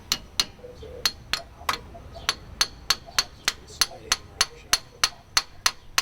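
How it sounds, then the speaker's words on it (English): Sharp metallic hammer taps strike in a steady rhythm, about sixteen evenly spaced blows, close and ringing, with no voices, tapping out a rear wheel bearing hub on a 2014 Subaru Forester. "you can tap the bearing out"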